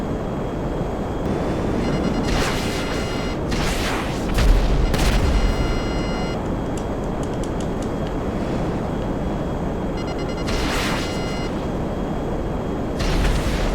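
Missiles launch from a P-996 Lazer fighter jet in GTA Online during stormy weather, giving several sharp bursts spaced a few seconds apart over a constant roar of wind and rain.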